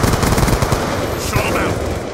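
Dense automatic gunfire from a Black Ops 2 multiplayer match, a continuous rattling stream of shots with bright game effects and a faint voice underneath.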